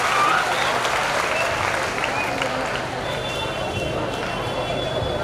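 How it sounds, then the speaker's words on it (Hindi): An audience at a school ceremony for the Azadi Ka Amrit Mahotsav celebration claps in a dense, steady burst of applause that tapers slightly toward the end. "ताली बजाए एक बार।"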